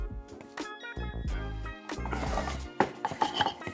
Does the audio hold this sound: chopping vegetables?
yes